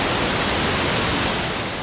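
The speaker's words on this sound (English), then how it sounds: "You can also select a pink noise source." Steady, continuous hiss of pink noise from a Future Retro Vectra synthesizer, full and even across the whole stretch, with no talking.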